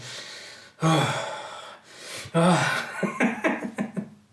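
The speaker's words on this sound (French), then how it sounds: "prends une respiration, puis fais-les sortir" A loud, deep breath drawn in and pushed out forcefully, twice in a row, followed by a run of short, sharp huffing exhales, close and with no one speaking.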